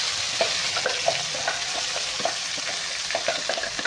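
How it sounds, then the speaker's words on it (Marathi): Mustard seeds, cumin and a ground masala paste of onion and Byadgi chillies sizzle and crackle in hot oil, a steady frying hiss broken by scattered small pops, close and alone with no talking. "चांगलं गरम झालेलं 1 चमचाभर आपण मोहरी टाकून घेणार आहे आणि अर्धा चमचा जिरे टाकणार आहे आणि आपलं वाटण बनवलेलं आपण टाकून घेणार आहे"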